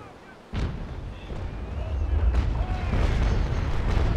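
Ship cannon fire in the naval video game Naval Action: a sudden heavy boom followed by continuous rumbling broadside blasts, with voices talking over the battle.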